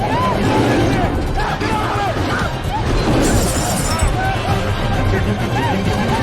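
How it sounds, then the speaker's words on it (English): Window glass shatters and smashes during a lion attack on a vehicle in the 2022 film Beast, set amid a loud, dense mix of crashing, engine noise and frantic voices across the whole clip. "Now the window is broken."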